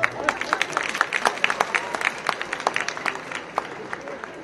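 Loud applause from an audience at a public event with a BJD MLA in Odisha, dense continuous clapping with scattered sharp claps and crowd noise throughout.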